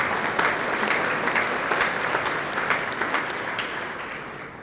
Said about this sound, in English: So one more round of applause for the partnership and teamwork.